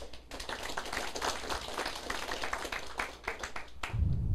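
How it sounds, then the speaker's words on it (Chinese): An audience at a political lecture breaks into steady, dense applause, many hands clapping together at moderate distance, before it cuts off abruptly near the end. "拍手吧"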